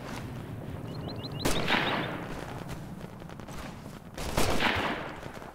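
Gunfire in the military shooter Operation Flashpoint: Red River comes as two loud bursts of shots against a steady battlefield din, with a brief chirping sound early on.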